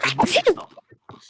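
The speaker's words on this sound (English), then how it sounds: "I sneeze in the middle of it" A person sneezes once, loud and close, during an online Pathfinder tabletop session, followed by a short spoken word and quieter fragments.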